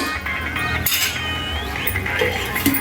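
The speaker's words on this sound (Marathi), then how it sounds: "आपण ह्यावर एक दोन मिनटं झाकण ठेवूया" A lid set onto a pan of tomatoes cooking for pav bhaji, with a loud close metallic clank and rattle over a continuous sizzling, clattering cookware background.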